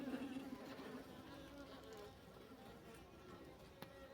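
Faint, steady buzzing of honeybees on a hive frame in winter, a soft continuous drone with no talking.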